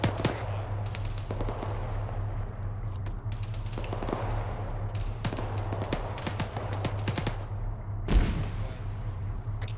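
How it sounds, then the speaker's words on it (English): Gunshots in the video game Arma 3, sharp cracks arriving singly and in quick bursts over steady background engine hum, with one heavier thump near the end, no talk. "I'm hearing more shots coming from our right side somewhere"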